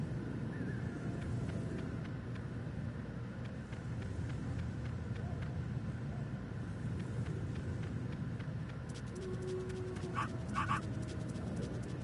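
A wolf pup in Metal Gear Solid pants steadily and rapidly, with a couple of short high whimpers near the end over a constant background hum.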